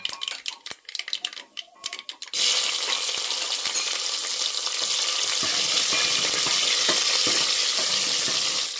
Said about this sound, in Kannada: ಇದೆಲ್ಲ ಚಲೋ ತೆಂಗಿನ ಸ್ವಲ್ಪ ಫ್ರೈ ಮಾಡ್ಕೋಬೇಕು